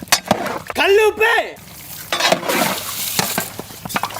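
Mutton biryani masala with curd is stirred in a pot over a wood fire, metal spoon scraping and clinking against the pot over a soft sizzle, with a voice speaking over it.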